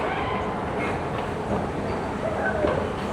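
An MRT metro train rumbles steadily with a dense rolling clatter throughout, loud and close, as if heard from on board or right beside the track.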